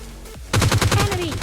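Rapid, loud gunfire in the mobile battle royale game PUBG Mobile Lite, with RPG and AWM weapons firing in a quick rhythmic string of shots that begins abruptly after a short quiet lead-in.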